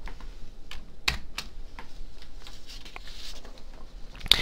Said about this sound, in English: typing the asterisk truncation symbol immediately